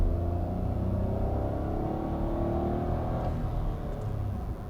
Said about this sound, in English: the engine it pulls pretty well actually for a 3-cylinder